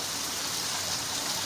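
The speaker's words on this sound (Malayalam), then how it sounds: "മഴയുടെ അവസ്ഥ കണ്ടോ, മഴ പെയ്യുന്നുണ്ട്. എന്തൊരു മഴയാണ് നോക്ക്." Heavy monsoon rain pours down in Malappuram, Kerala, as a dense, steady wash of close, even hiss that holds unbroken and loud throughout, with no voices.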